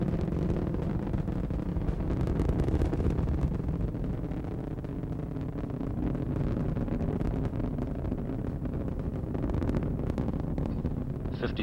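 Space Shuttle Discovery's three liquid-fuel main engines roar during launch, a continuous, rumbling low-frequency thunder with crackling texture, heard steadily from a distance for the whole stretch.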